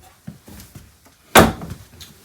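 A single sharp sliding clunk as a pull-out drawer opens in a 2026 Open Range Roamer Lite Duty 24MLDS travel trailer, preceded by a few soft taps and small handling noises.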